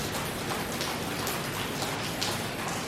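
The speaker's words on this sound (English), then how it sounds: "It's raining outside." Rain falls steadily outside on a rainy day, a dense, loud, unbroken hiss of drops on surfaces with no voices.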